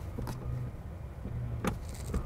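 A BMW 7 Series 745e plug-in hybrid door pulls itself shut with its soft-close mechanism: a faint muffled thud and a brief motorized whir and latch click, close and quiet inside the car.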